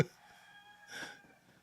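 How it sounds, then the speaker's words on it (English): A rooster crows once, faint and distant, a short strained call rising out of a quiet background. "you can hear my roosters in the background"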